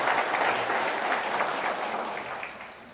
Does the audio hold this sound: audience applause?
yes